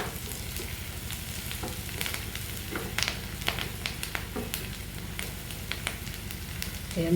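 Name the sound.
curry leaves sautéing in hot oil for prawn gravy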